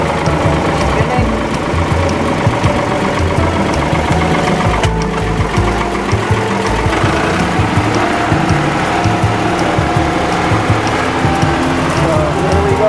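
A hay baler rebaling round hay bales into square bales runs loud and steady, with a continuous churning, ratcheting clatter of gears and mechanism close by throughout.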